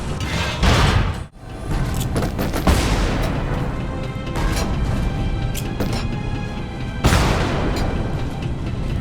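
Heavy booming bomb blasts in the video game Lara Croft and the Temple of Osiris: loud, broadband bursts near the start and again later, over a continuous dense rumble of game noise.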